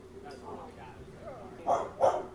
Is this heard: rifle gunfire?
no